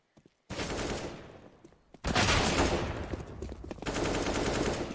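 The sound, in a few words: pistol gunfire in Counter-Strike match on Inferno, video game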